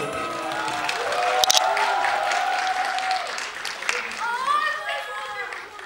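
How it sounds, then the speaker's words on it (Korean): A cinema audience at a movie talk event applauds steadily with cheering and a few whoops; voices rise over the clapping, which fades near the end. "네, 큰 박수로 맞이해 주시죠."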